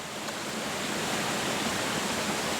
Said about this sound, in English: now the espresso is going to go in